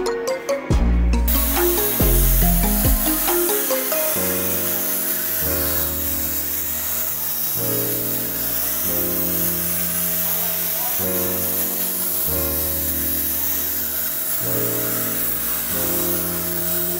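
A spray varnish machine runs with a steady hissing spray and a stepped, droning motor hum that shifts pitch in blocks, loud and close throughout, after a brief clattering start.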